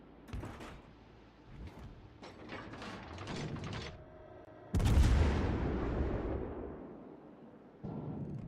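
Naval gunfire in a warship video game: clicking mechanical turret sounds, then a loud booming artillery blast that rolls off slowly, followed by another shot near the end.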